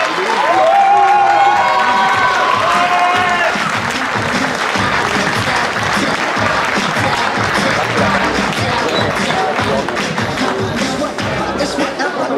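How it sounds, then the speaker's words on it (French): An audience at a gastronomy fair applauds an award winner named at a cooking contest, with sustained, dense clapping and a few cheers running steadily for the whole stretch while a voice speaks briefly near the start. "Et on peut applaudir Lilou."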